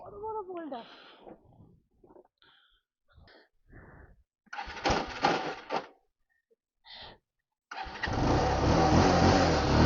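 A 13-year-old Bajaj Pulsar 220 motorcycle on an off-road trip cranking in short bursts between people talking, then catching and settling into a loud, steady idle for the last couple of seconds.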